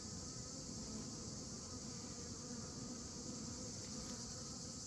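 Honey bees hum around a small hive in a continuous, even drone. The buzzing is faint and steady, with no talking over it.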